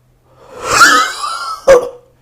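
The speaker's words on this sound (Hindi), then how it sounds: "जितना ज़ोर से आप खांसेंगे उतना ज़्यादा अच्छा असर आपके लंग्स पर पड़ेगा" Two forceful deliberate coughs close by, done as a lung exercise: a long, harsh hacking cough followed by a short, sharp second one, with silence before and after.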